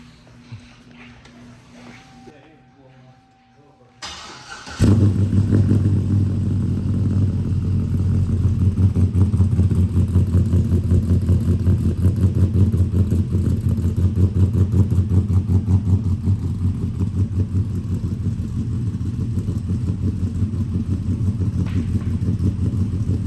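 A third-generation car engine cranks and catches after a few quiet seconds, then runs loud and steady with revving close by for the rest of the clip.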